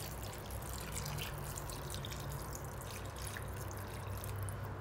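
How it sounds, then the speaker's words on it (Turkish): Room-temperature water is poured into a pan over a celery dish, giving a steady, close trickle and splash that lasts throughout. "şimdi üzerine suyunu ekliyorum"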